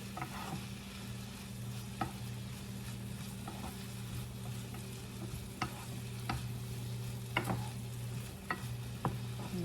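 Egg frying with bitter melon in a pan, a steady low sizzle with a faint hum and scattered light scrapes and taps from stirring, spread across the whole stretch.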